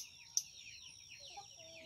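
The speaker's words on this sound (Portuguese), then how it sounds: "Olha o passarinho cantando aí, ó." A small bird sings in short, bright chirps, with one sharp call standing out near the start, faint and a little distant in a quiet outdoor setting.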